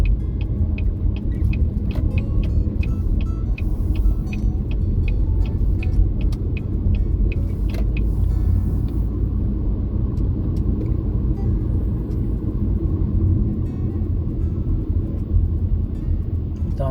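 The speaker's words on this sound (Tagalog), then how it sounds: "Daming sasakyan guys" Steady road traffic circulating through a roundabout in Canada, a continuous low rumble of passing cars that holds at a fairly even level throughout, with no clear talk over it.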